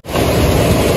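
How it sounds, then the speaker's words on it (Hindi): A waterfall roars beside a mountain road in heavy rain, a loud, dense, continuous rush of water that starts abruptly and stays steady throughout. "तो ये झरना जो पहले नहीं था वो आ चुका है फिर दोबारा अपने अभी"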